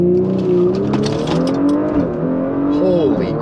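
An Audi B9 in sport mode accelerates hard, its engine note rising and climbing through gears, loud and close from inside the car, with a brief dip at a shift before pulling up again.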